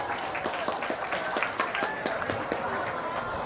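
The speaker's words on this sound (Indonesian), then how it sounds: "Ayo, tepuk tangan dulu untuk Fatih." A school crowd at an Islamic assembly claps for a student named Fatih, a brisk, rhythmic patter of many hands with a faint voice underneath.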